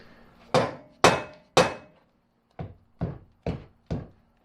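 Hammer blows during installation of PCF rock sliders and tree kickers on a Can-Am Maverick X3: three loud strikes, a pause, then four slightly lighter evenly spaced knocks, close up with no talking.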